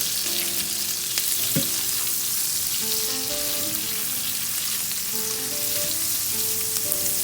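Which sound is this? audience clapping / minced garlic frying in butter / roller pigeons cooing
minced garlic frying in butter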